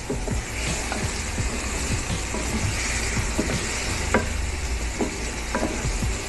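Tomato paste sizzles and fries steadily in a pan, a continuous close crackle with occasional small pops and faint stirring, no talking.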